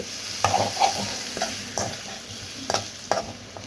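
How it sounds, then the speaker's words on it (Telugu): Prawns with fresh coriander frying in a pan, a continuous gentle sizzle punctuated by several spaced scrapes and taps of a spatula against the pan, heard close with no one speaking. "అంతవరకు కూడా మనము ఫ్రై చేసుకుంటూ ఉండాలి"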